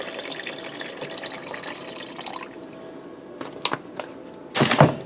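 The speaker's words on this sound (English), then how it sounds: "That allows easy flow of your chicken broth. It isn't chugging. See how that comes out nice and even? Nice steady stream." Chicken broth for cheeseburger soup pours in a steady, even stream into a pot, making a continuous soft splashing rush that eases off, followed by a few light knocks and a brief louder splash.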